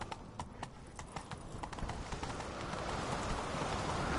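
A horse's hooves clop in a quick galloping rhythm in The Witcher 3, growing into a dense rushing drum of hoofbeats over a noisy, busy background.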